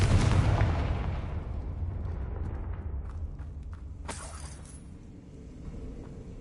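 A Confringo spell explosion in the video game Hogwarts Legacy erupts with a loud, broad blast at the start and decays into a rumbling tail, with a sharp secondary crack partway through.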